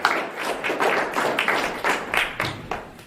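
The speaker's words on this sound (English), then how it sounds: "I have to ask for an applause for him" A small audience claps in a brief burst, with hand claps pulsing in a quick, somewhat irregular rhythm at moderate loudness, close by and without talk.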